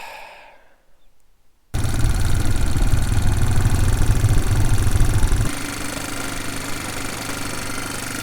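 A farm motorbike engine fires up after near-silence and settles into a loud, steady, close rumbling idle, easing slightly in level toward the end.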